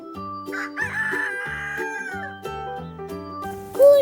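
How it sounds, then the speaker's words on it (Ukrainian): Chickens cluck and squawk in short bursts close up, with a rooster-like crow rising near the end. "Кури."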